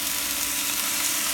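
Seafood glass noodles with seasoning fry in a pan, a steady, bright, close sizzle that continues evenly throughout with no talking.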